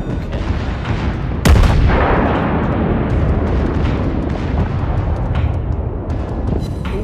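Battleship main guns firing in the naval combat game World of Warships: one sharp, loud booming salvo early on, then a long rolling rumble that slowly fades, with faint distant thuds afterward.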